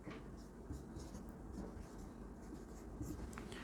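A marker or chalk writing on a board during a biology lecture, giving faint scratchy strokes over a steady low room hum, distant and quiet.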